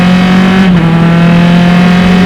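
Loud, steady engine roar from SCCA race cars at the green-flag start at Mid-Ohio, a droning hum that holds at full volume throughout.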